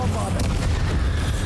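A Bombarda spell detonating in the video game Hogwarts Legacy, a short heavy boom with a rumbling low body and a crackling burst on top, loud and close, lasting barely a second and a half.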